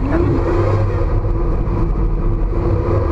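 A car engine revs hard and steadily while drifting around a cone, a loud, close, sustained drone.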